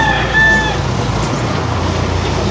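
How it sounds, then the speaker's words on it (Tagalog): A rooster crows once at the start, loud and close, over the noise of chickens and a busy roadside with passing vehicles. "Lahat po ng manok, tanggalin nyo."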